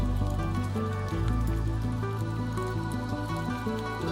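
Rain falls on the empty streets of a mountain village, a steady patter of drops under a loud layer of sustained tonal music that plays the whole time.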